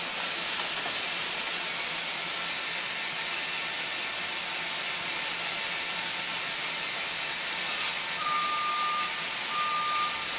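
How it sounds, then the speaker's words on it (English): Steam hisses off a coating freshly applied to a hot pipe, a loud, unbroken broadband hiss that holds steady throughout, with a faint thin tone near the end. "you can allow this to stop steaming off and then continue to build up your thickness."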